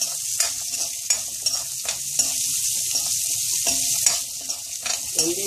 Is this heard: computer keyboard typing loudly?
no